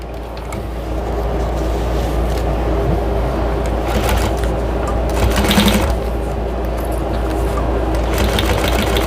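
Sewing machine stitching across thick drying mat fabric, a continuous close mechanical whirr with rapid needle chatter, running steadily throughout.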